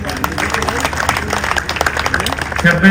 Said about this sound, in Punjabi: ਇਹਦੇ ਲਈ ਜ਼ੋਰ ਦੀ ਤਾਲੀਆਂ ਮਾਰ ਦਿਓ